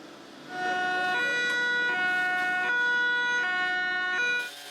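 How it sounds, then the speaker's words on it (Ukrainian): Emergency sirens wail loudly and continuously during a rescuer training exercise in Vinnytsia, Ukraine, rising and falling in tone, close by with no voices. "Поруч гудуть сирени"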